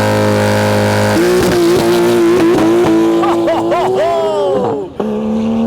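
A Porsche GT3 engine revs hard nearby, rising through sharp, loud sweeps of throttle with a snarling wail that climbs, drops off and settles back to a steady idle.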